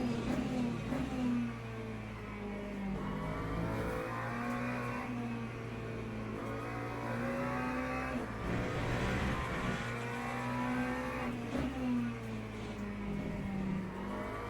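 Race car engine in a racing video game, a continuous droning roar that rises and falls as the throttle is lifted for a corner and then opened up again, steady and prominent throughout.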